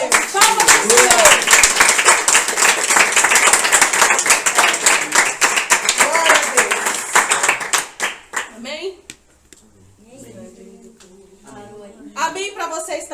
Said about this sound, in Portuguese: Palmas do Senhor